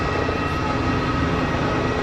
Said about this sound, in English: And the Qatari Dreamliner on final right here.